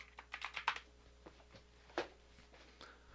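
Quick bursts of computer keyboard typing, a fast flurry of clicks followed by a few scattered keystrokes, close and quiet, with no talking.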